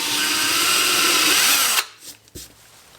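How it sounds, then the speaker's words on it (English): A power drill whines steadily at close range for nearly two seconds, drilling a pilot hole in cherry wood for a bowl, then stops abruptly, followed by a few soft knocks and handling noises. "let's drill us a little pilot hole."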